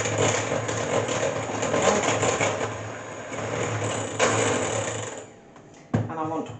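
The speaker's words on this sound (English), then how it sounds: "Just going to turn my mixer up a little bit." An electric mixer whisks melted chocolate into brownie batter with a loud, steady motorized whir up close, then winds down and stops near the end, followed by a couple of knocks against the bowl.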